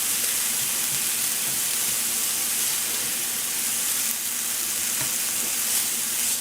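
Onions and frozen kale frying in a T-fal Viva non-stick pan give a steady, close sizzle with occasional stirring scrapes, continuous and fairly loud with no talking.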